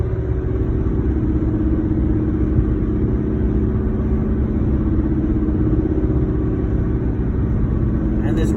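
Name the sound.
tire road noise inside a moving courier vehicle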